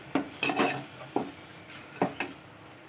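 A spoon stirs tomato paste into a mushroom curry in a pan, with several distinct scraping strokes against the pan at an uneven pace and a faint sizzle underneath. No one speaks.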